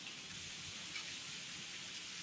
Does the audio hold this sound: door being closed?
no